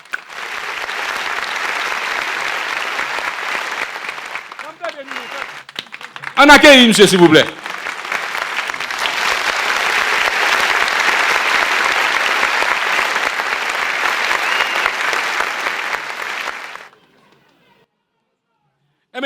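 Loud, sustained applause and cheering from a crowd at a national political party congress, steady for about sixteen seconds and then stopping abruptly, with a short burst of amplified talk and shouting partway through.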